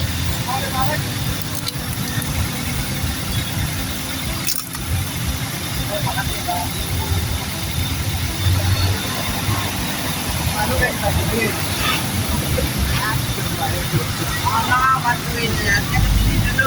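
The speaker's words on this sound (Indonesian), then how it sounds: "Ini pengetesan alternator nih. Ya, kondisi mesin masih hidup ya." A car engine idles steadily during an alternator test, a continuous low hum that stays close and even throughout, with a few faint clicks and sounds over it.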